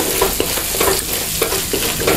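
Sausage fried rice being stir-fried in a pan, a steady close sizzle broken by repeated scraping strokes of a utensil at an even rhythm, with no talking.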